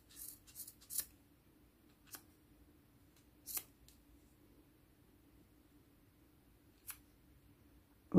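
A few crisp scissor snips cutting crochet yarn for a child's basket, close and isolated, spaced irregularly over a quiet background.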